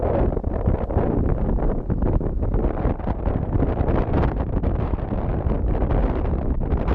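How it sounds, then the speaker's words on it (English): Heavy wind buffets the microphone in constant low rumbling gusts, loud and unbroken, with no talking, outdoors at the Old Princess Mine. "Just a little too windy out today,"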